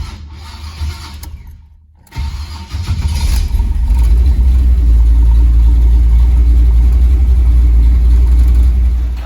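A warmed-up, carbureted Chevrolet El Camino engine cranks with the key and catches after a brief pause, then settles into a loud, steady rumbling idle, close by.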